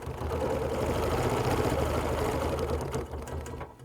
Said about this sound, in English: Put that seam against the line on the ruler and stitch, stopping at that seam.